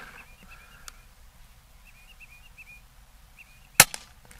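A single sharp crack from an Umarex Notos .22 regulated PCP micro-carbine air rifle near the end, with faint birdsong chirping in the background beforehand.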